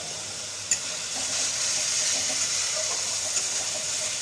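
Spice paste with green chillies sizzles and hisses steadily in a hot pan for a village fish and taro curry, a continuous bright frying hiss with a couple of small pops, no talking.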